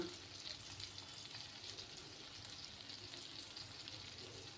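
Brinjal pieces frying in a pan of oil, a steady close sizzle and crackle that holds evenly throughout with no voices.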